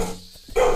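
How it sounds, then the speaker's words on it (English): Pet dogs bark in a short, loud burst near the end, after a quieter stretch of faint background noise. "And hey, why the dog barking?"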